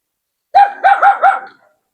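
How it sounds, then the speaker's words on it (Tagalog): Dog barking four times in quick succession, close and loud, a guard dog at the door of an abandoned church in Batangas. "may bantay na aso"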